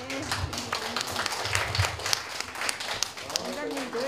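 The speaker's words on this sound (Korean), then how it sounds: "큰 박수 부탁드리겠습니다" Clapping from an audience of elderly people at a day-care centre's family-month event in Sangju, a loose patter of hands mixed with shuffling and a voice talking over it.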